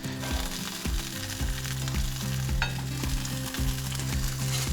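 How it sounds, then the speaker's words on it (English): Wooden spoon beating purple rice risotto in a hot pan, with steady close sizzling and frying under rhythmic scraping strokes that repeat about every second, no voices. "You see how I'm also beating this rice with a wooden spoon?"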